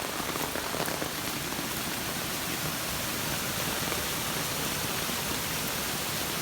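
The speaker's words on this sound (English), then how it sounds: "And this is the waterfall that I was talking about." A small waterfall formed by backyard flooding pours in a steady, close hiss of splashing water that continues evenly without a break.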